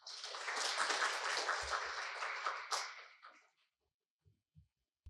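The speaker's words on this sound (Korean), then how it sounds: "박수로 맞아주시기 바랍니다." An audience at a science culture forum claps together for about three seconds, sustained and fairly near, then fades out, leaving a few faint knocks.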